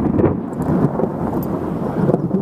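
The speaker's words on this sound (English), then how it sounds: "Oh, lightning strike there." Thunder from a lightning strike rolls through a rain squall over a coastal spot with coconut palms, a loud continuous rumble mixed with rain noise and no voices.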